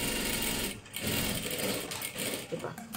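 A sewing machine stitches salwar cloth in a continuous, close mechanical whir with a fast rhythmic chatter, running steadily for the whole stretch with talk over it.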